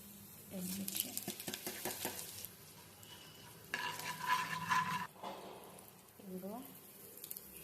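Mustard seeds, cumin, chana dal and dried red chillies frying in hot oil make a light sizzle and crackle, with a spoon scraping and stirring the pan and a voice speaking over it.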